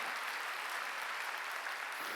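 Church congregation clapping during a Wednesday worship service, an even, sustained patter of many hands heard at a moderate distance and fairly quiet, steady for a couple of seconds.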